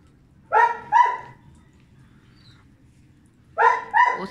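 A dog barks in two quick pairs, loud and close, separated by a few seconds of quiet low background murmur.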